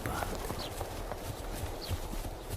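Horse hooves clip-clop as a carriage comes to a stop in the inner courtyard of a huge, partly ruined castle, a faint, irregular clatter of steps under a soft background hiss.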